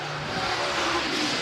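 Super late model race cars, including a Kryptonite car, race on a dirt track in Richmond, Kentucky, producing a continuous, dense roar of engines at a steady level with no pauses.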